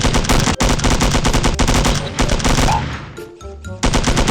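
Rapid gunfire in the shooting game Milk Choco, loud dense bursts of automatic fire that briefly thin out with scattered shots before the heavy firing resumes, with no talk.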